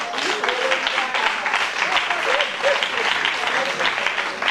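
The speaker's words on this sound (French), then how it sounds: "On acclame le Seigneur." Church congregation applauding in praise during a worship service, a steady dense clapping crowd throughout, loud and close, with voices mixed in beneath.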